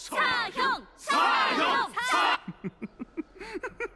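Crowd acclamation in the video game Honkai: Star Rail, loud unified shouts in several bursts, then a run of short rhythmic chanted calls that grow quieter.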